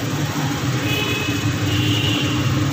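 1992 Toyota Corolla with a 12-valve 2E engine running with a leaking exhaust and low power, a steady close rumble with a constant hissing rush layered over it, no talking.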